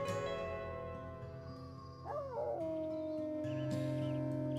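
Wolves in the WolfQuest video game howl together as a pack in a morning chorus, several long rising and falling voices overlapping over a steady game ambience, loud and close with no talking.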